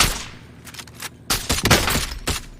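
Gunfire in Call of Duty Warzone, a burst of several loud, sharp shots early on, then a short lull before a second cluster of rapid, dense shots that fades into scattered reports.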